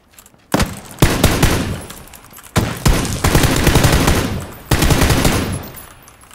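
Gunfire in the battle royale game PUBG: several bursts of loud, close automatic weapon fire in rapid volleys, separated by short gaps and fading tails, with no talking over them.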